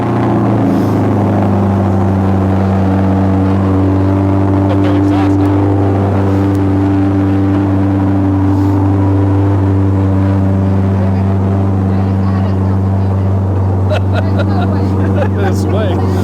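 A C8 Corvette engine idles steadily with a deep, throbbing exhaust rumble, while people talk excitedly nearby.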